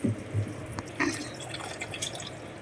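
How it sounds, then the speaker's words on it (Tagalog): Fruit being rinsed under water, then left to drain, with soft drips and light splashing that stay faint and close throughout. "hugasan ko muna siya, guys, at patuluin ko muna"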